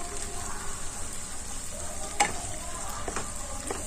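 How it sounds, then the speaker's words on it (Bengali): Spice paste with garlic stirred and fried in a pan for a pangas fish and potato curry, giving a steady low sizzle under repeated scraping strokes and a few sharp spatula taps, close and with no talking. "এই সব উপকরণ ভালো করে নাড়াচাড়া করে ভেজে নেব।"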